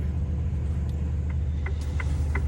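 A truck rolls along the road with a constant low engine rumble and road drone heard from the cab, steady and unbroken for a couple of seconds with faint small clicks.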